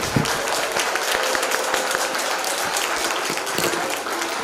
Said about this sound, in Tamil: ஃபர்ஸ்ட் உங்க பேரண்ட்டுக்கு பலத்த கைத்தட்டல் கொடுக்கணும்னு நான் நினைக்கிறேன்